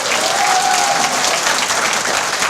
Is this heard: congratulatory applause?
yes